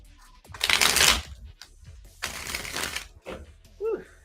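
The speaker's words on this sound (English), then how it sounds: "Nice shuffle." Tarot cards riffle-shuffled in two bursts of rapid flapping, close by, followed by a short voice.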